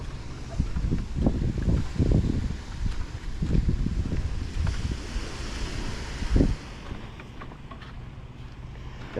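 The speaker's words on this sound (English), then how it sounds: "Got an east wind" East wind gusts across a Florida Gulf Coast beach at morning, buffeting the microphone in loud rumbling bursts over a steady wash of low surf, easing toward the end.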